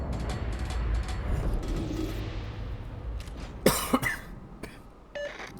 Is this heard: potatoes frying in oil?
no